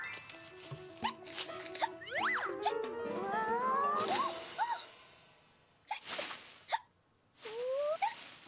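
Cartoon character hiccuping in a children's animated scene, with bouncy boing-like squeaks and swooping tones in short bursts, several distinct hiccup sounds spread across the passage amid other cartoon effects.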